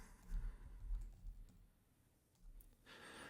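Someone types on a computer keyboard during a software demo, producing quiet, quick clusters of soft key clicks with a short pause in the middle.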